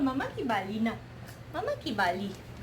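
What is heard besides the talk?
No everyday noises stand out.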